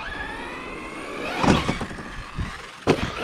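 A Team Corally Kagama 6S RC car on belted tires launches off a ramp, its electric motor whining before a few sharp clattering thumps as it lands and bounces, then another hard impact close by.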